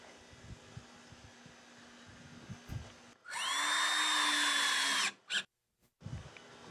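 A power drill bores through a wooden cart top in one sustained, loud whining burst of about two seconds, followed by a brief second spurt. Quieter workshop handling noises come before and after.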